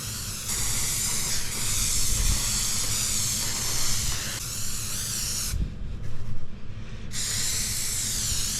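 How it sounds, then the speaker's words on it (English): Steady aerosol spray hissing onto wood and carpet inside a camper van shelf build, close and continuous with brief pauses and bursts. "I'm going to be spraying it on both the wood and the carpet"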